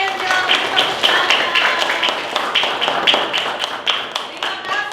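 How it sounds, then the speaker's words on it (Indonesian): A classroom group claps hands in quick, dense bursts, close and fairly loud, with a voice speaking over the clapping. "Oke, silakan tepuk tangan."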